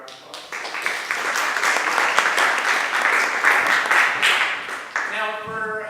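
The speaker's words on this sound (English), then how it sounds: "So give her a round of applause." Audience applause greeting a speaker in a lecture hall, a dense burst of many hands clapping that swells and holds for several seconds before fading as a voice returns.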